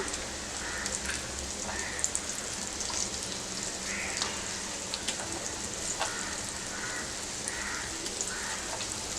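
Paneer pieces frying in a generous amount of oil in a pan, giving a steady close crackling sizzle with scattered pops and no break.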